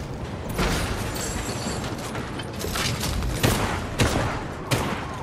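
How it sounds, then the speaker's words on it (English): Gunfire in the Fortnite video game: a rapid fusillade of shots fills the whole stretch, with a few sharper, louder cracks standing out near the end, and no talking. "People shooting."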